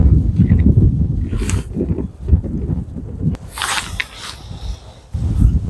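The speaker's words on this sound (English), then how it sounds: "It is pretty windy today, guys, so you've got to excuse the noise in the background." Gusty outdoor wind buffets the microphone at a flooded memorial arboretum in Staffordshire, loud low rumbling surges rising and falling, with a few faint higher sounds in between.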